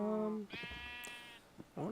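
Sheep in the Minecraft Better Than Wolves mod bleat in a pen, a couple of loud, close, wavering synthetic bleats separated by a short gap, with someone talking over part of it.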